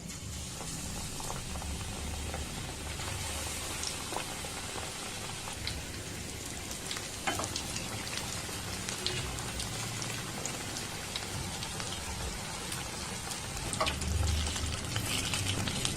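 Battered nendran banana slices deep frying in hot oil over a medium flame, a steady crackling bubble with scattered sharper pops, close and constant throughout.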